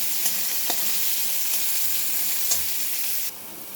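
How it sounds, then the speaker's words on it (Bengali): Bitter gourd (uchhe) frying crisp in hot oil, a steady close sizzle with faint spatter pops throughout, dropping slightly quieter near the end. "উচ্ছেগুলোকে একদম কড়া করে ভেজে নিয়েছি"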